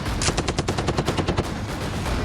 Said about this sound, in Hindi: ताबड़तोड़ गोलियां और आग बरसाते गोले नजर आए और आसमान में गरजते हेलीकॉप्टर से बमों की बरसात